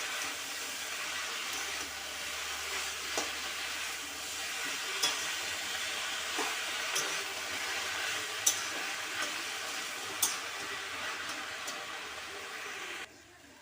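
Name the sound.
stirring chalkumro greens with vegetables and spices in pan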